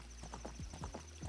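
A horse's hooves clip-clop in a video game, a quick run of about eight hoof strikes in a steady rhythm, near and clear over a faint constant background hum.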